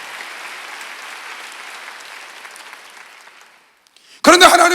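A church congregation at a Sunday worship service applauds with a sustained, steady clapping that fades out over several seconds. After a brief pause, a voice starts speaking.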